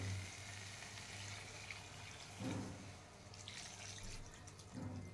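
Water from rinsing a container is poured into a pan of spiced vegetable curry with eggplant and potato, giving a quiet, faint trickling splash with a few soft surges and no talk.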